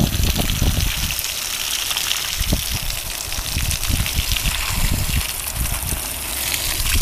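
Steady rushing spray of water watering orange trees and grass runs continuously, with a few low thumps and bumps underneath, fairly close and loud throughout.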